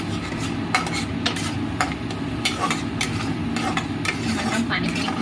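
A tomato masala for a prawn malai curry fries in oil in a pan and is stirred continuously, giving a steady low sizzle broken by frequent brief clinks and scrapes of the utensil.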